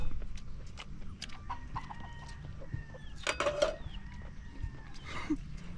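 Chickens cluck softly in short scattered calls against a low background rumble, with a few louder clucks near the middle and end.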